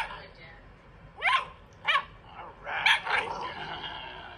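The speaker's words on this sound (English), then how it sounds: "Look, he's barking." A dog gives a few sharp, high barks and yips in quick succession, close by, with whiny overtones and a quiet room behind.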